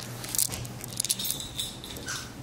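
A bunch of keys jangles close by in a few brief metallic jingles, with no talking.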